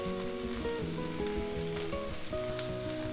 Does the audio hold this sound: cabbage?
yes